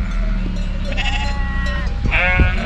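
Sheep bleating in a large flock gathered on a mountain road, several wavering calls rising over a steady low rumble of the animals, moderately close.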